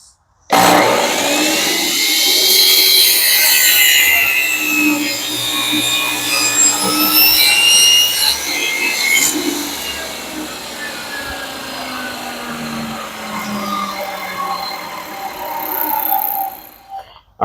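Power tool cutting wood pieces for a console, a loud close whining cut that holds for several seconds, fades, then returns in shorter bursts.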